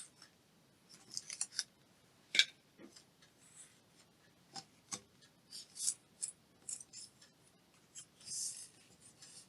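Scissors cut paper for a craft project, a quiet, close string of short snips and rustles spread irregularly over several seconds with one sharper clip near the start.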